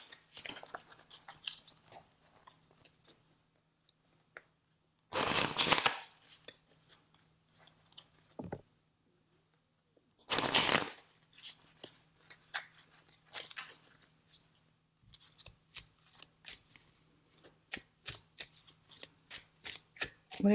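Deck of tarot cards handled and riffled, two loud bursts of shuffling followed by a run of quick card snaps and taps, close and without talk.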